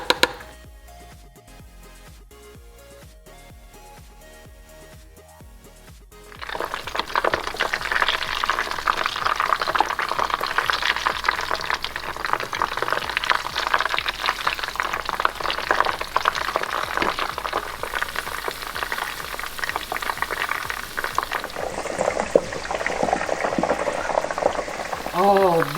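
Annatto seeds sizzle in hot oil on the stove while being made into achiote oil, a steady close crackling fry that starts after a few quiet seconds and continues loudly to the end.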